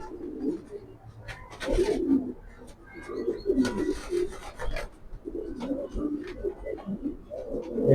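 Big, fire-eyed racing pigeons coo in low, throaty bursts repeated throughout, close by, with rustling and scraping noises between the calls.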